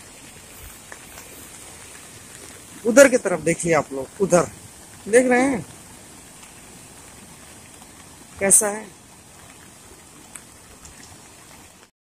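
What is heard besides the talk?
rain falling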